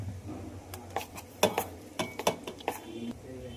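A spoon stirs and scrapes semolina cake batter mixed with yogurt and baking powder in a bowl, giving irregular clinks and knocks against the dish up close over a quiet background.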